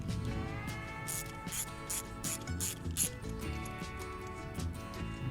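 A ratchet clicks steadily in quick, even bursts while spark plugs are backed out of an old abandoned car's engine, close and fairly quiet with a faint mechanical hum beneath.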